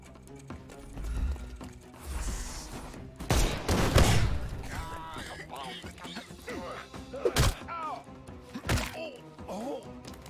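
Gunfire rings out in a shootout in the Sherlock Holmes: Chapter One video game, several loud bursts with heavy thuds standing out amid music and game voices.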